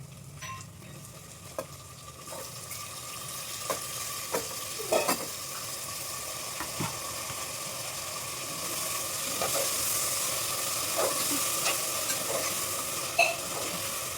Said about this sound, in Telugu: టమాటోస్ మంచిగా కలపాలి గైస్ ఆయిల్లో.